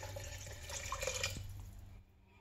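Water poured from a tap or jug into a pot of mushrooms for a keto green bean casserole, a steady splashing, trickling stream close by that stops abruptly near the end.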